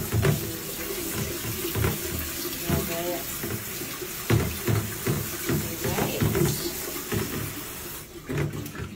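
Water from a shower runs in an apartment bathroom in Guilin, China, a continuous close splashing rush with voices talking over it.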